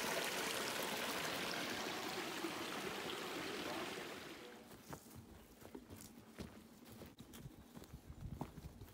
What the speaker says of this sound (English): Ooh, there's a creek down here.